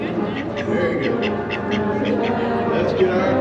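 Ducks quack in a hotel foyer as they parade down from the roof along a red carpet, giving a steady run of repeated, fairly loud quacks over the chatter of a watching crowd.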